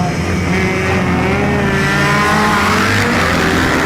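A Moto Guzzi V7 Sport motorcycle engine runs loudly and steadily, the pitch dipping and rising slightly as it shifts smoothly through gears while riding.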